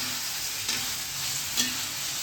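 Tempering sizzles and fries steadily in a pan for Gujarati bitter gourd curry, a continuous close hiss with a couple of faint stirring clicks and no voices.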